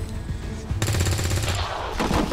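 A soldier's gunshot in the video game XCOM 2 cracks loudly, followed by a dense burst of rapid firing that continues with several sharp reports through the short moment.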